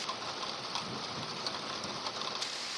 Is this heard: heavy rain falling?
yes